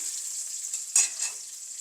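Brinjal pieces fry with garlic in a pan for prawn curry, giving a bright, steady sizzle close up and one sharper stir or clatter midway through the short stretch.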